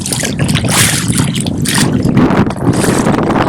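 Gusty wind sweeps across choppy water during a fishing outing, a loud, continuous broadband rush with slight rises and dips and no voices.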